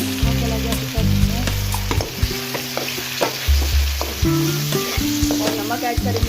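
Masala sizzles and fries steadily in a pan for moong dal, a loud, continuous close-up crackle with stirring scrapes and clanks throughout.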